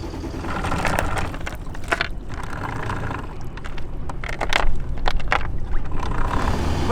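A small sailboat motors under engine power through the St. Johns River inlet on an outgoing tide at about 6 knots, a steady low engine drone with water wash and wind rush, no voices.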